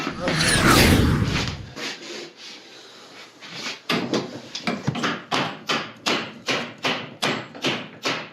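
A hammer taps a fitting into a shower base drain with about a dozen sharp, evenly spaced knocks, preceded by scraping and rubbing as the part is positioned.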